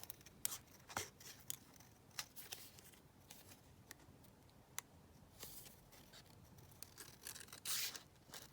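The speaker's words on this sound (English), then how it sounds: "let's just cut out this butterfly here" Scissors snipping out a paper butterfly for a pink mixed-media art journal page, with short crisp cuts and rustling paper close up and fairly quiet, no talking.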